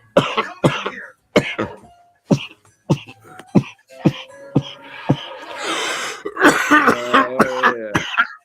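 A series of sharp, close coughs and throat clearings in irregular bursts, ending with a few strained, wheezy, moaning sounds.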